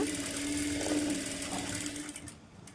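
A sewing machine runs a steady double stitch along blouse piping, its motor whirring continuously up close before slowing and stopping near the end.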